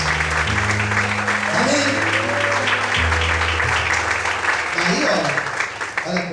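A church congregation claps steadily throughout, applauding God during a sermon, with a voice speaking over it and sustained music tones underneath.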